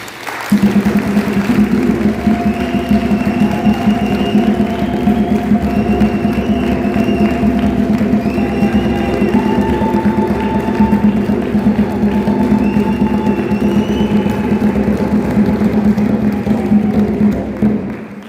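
A large crowd at an outdoor political party gathering in Pretoria cheers steadily for the president, a loud, continuous roar with whistles and shouts sustained for about eighteen seconds.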